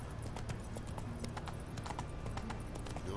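Roach, Geralt's horse in The Witcher 3 on PS4, trots with a steady rapid clip-clop of hooves over a constant low background, with no talk.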